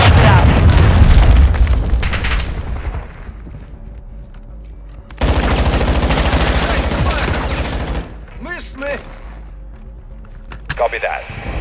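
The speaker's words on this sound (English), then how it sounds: "Friendly cruise missile inbound" A cruise missile strike in the video game Call of Duty: Modern Warfare II: heavy, loud booming blasts rumble continuously, mixed with bursts of gunfire, a second powerful impact midway, and voices talking over the combat.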